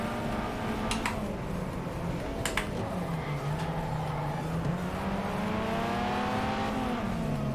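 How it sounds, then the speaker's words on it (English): A car engine in an old racing video game revs and whines continuously, its pitch climbing and dipping as it shifts, with a few sharp clicks and knocks over the steady loud drone. "Oh, that engine sound of this car though."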